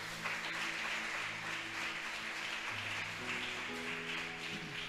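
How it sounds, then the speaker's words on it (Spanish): Congregation applauding during a Spanish-language church service: a steady, fairly quiet wash of clapping that lasts the whole stretch, with sustained musical tones beneath it. "¿Cuántos le aplauden al Señor por esto"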